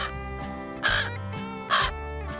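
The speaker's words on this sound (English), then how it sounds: "The bird is trying to tell us something." A crow caws twice, loud and close, the two harsh calls spaced about a second apart over a steady low background hum.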